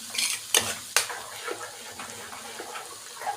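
A spoon stirs béchamel sauce in a pot on the stove, scraping and clinking against the metal in a few sharp strokes followed by softer, bubbling movement.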